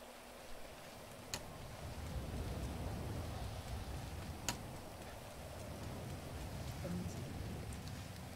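Steady rain patters softly in a GTA roleplay game scene, with scattered louder drop ticks, faint and continuous beneath occasional talk.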